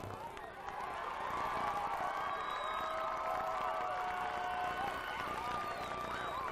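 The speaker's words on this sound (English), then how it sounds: "as we hear the crowd in the background" A large crowd at a 1998 girls' high school soccer divisional championship cheers and shouts continuously in the distance, a dense roar of voices with occasional whistles and yells, with a voice speaking over it.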